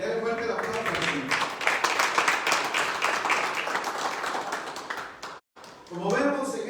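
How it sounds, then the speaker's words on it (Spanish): A church congregation claps loudly for the Lord during a Spanish-language sermon, a dense, steady burst of applause that runs for several seconds, mixed with voices, breaks off briefly, then resumes. "Denle fuerte la aplauso al Señor."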